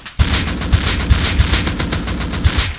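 AK rifle in the game Rust firing a continuous spray of rapid automatic shots, loud and close, a dense rattling burst lasting nearly three seconds with no talking.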